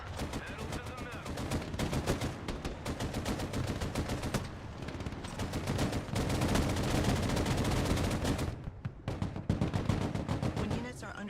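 Dense, continuous gunfire from a Broken Arrow battle, with rapid overlapping shots and volleys running almost unbroken for about eleven seconds under a busy combat din.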